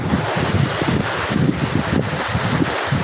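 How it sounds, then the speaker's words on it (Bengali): Strong wind buffets the microphone in a continuous rough roar during heavy rain, gusting unevenly with no other sounds standing out. "এখন একটু বাতাস হচ্ছে"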